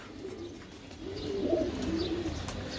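Giribaz pigeons give a soft, low cooing that rises midway and continues over a steady background hiss, fairly close.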